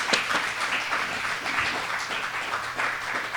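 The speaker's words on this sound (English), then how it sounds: "warm applause." A meeting audience gives warm applause welcoming Rev. Linda Brewer to speak, a close, full burst of clapping with uneven swells and no talking over it.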